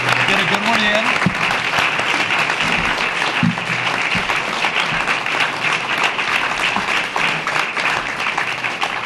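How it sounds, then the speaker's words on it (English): Steady, dense audience applause at a mayoral town hall debate, loud and continuous throughout with faint voices underneath. "So let's clap and get it out of the way. Get a good one in."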